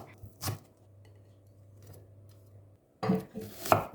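Knife chopping spring onion stems on a board: a couple of sharp cuts early, a short burst of brisk chopping near the end, with a low steady kitchen hum between.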